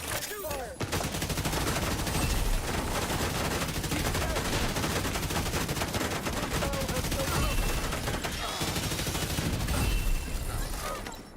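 Gunfire in the video game The Division 2 rolls on loudly and almost without pause for over ten seconds, with dense overlapping bursts and brief breaks near the start and end.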